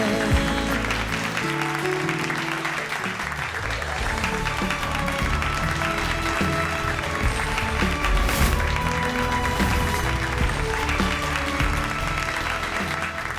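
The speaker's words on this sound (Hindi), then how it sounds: "दर्शकों की तालियों की गूंज से साफ पता चलता है" Audience applause rings out at a Varanasi division inter-school dance competition, a dense steady clatter of clapping over loud music that runs the whole time.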